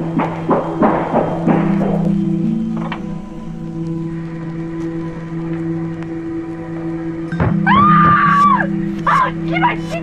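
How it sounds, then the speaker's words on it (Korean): A woman's scream rises sharply near the end of a tense audio drama scene, heard over a steady low hum after muffled voices and thuds. "502호 김유진 씨 비명이에요"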